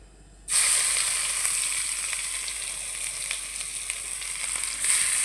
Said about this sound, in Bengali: এখন আমি রসুন দিয়ে দিব।